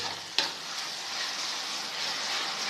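Tomato and ground ginger-garlic paste sizzle in hot oil with fried onions for a prawn curry, a steady close frying hiss after a single sharp clatter as the ingredients hit the pan, with no talking.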